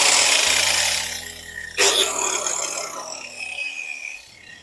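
An angle grinder working the rusty surface of welded metal, a steady loud grinding whine through the first half, then a sharp burst and a continuing lighter, scraping grind with a motor hum underneath.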